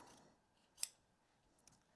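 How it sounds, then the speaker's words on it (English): A single quick snip from a long pair of scissors trimming quilt fabric seams, one sharp close cut with a faint second snip near the end, in a quiet room. "I just take a long pair of scissors and just kind of eyeball it."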